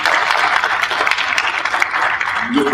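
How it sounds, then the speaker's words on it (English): Steady round of clapping from an audience at a school district presentation, dense and continuous throughout, tapering slightly near the end. "Let's give her a round of applause."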